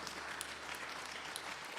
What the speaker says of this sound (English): Please clap for them.